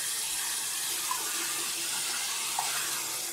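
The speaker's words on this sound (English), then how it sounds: "I'm going to get some warm water going" Warm water runs steadily from a bathroom tap into a sink before shaving, a continuous close rushing hiss lasting several seconds with no talking.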